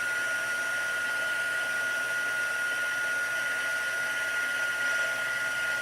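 A handheld embossing heat tool blows hot air over stamped paper, a continuous steady whirring hum with a high tonal whine, even in loudness and with no speech.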